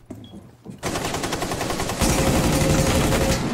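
Rapid automatic gunfire in Rainbow Six Siege video game, starting abruptly after a short quiet moment and continuing as loud sustained bursts that grow heavier toward the end.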